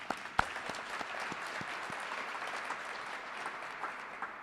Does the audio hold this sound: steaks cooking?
no